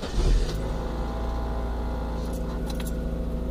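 An old Mazda Miata's engine idles steadily, with a brief louder rumble at the start as it settles into an even hum close by.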